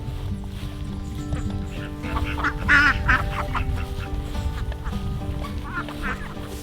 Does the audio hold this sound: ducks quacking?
yes